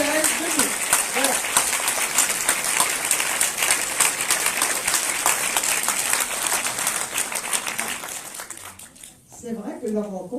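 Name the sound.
applause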